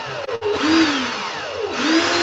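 A power drill spins to twist 36 gauge stainless steel coil wire, a loud close whirring motor that starts with quick stutters and then runs steadily with a wavering pitch, no talking.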